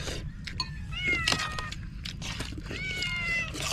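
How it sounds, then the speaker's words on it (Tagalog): A cat meows several times in a row, clear upward-curving cries spread across a few seconds over a steady low rumble of background noise, with no talking. "May pusa mo doon."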